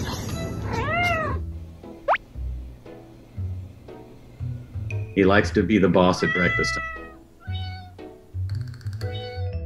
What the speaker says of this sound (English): he'll usually meow at them and kind of run them off